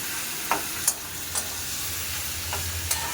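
Pointed gourd and shrimp being stirred in a hot pan for a chorchori, with a steady sizzle and a few sharp spatula scrapes against the metal, close and without talk.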